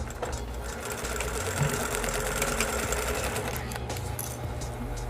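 A sewing machine topstitches a recycled-fabric fringed bag near a zipper, a steady continuous whir running close and loud for about five seconds with no voice.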